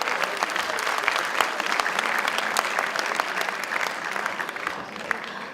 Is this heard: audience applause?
yes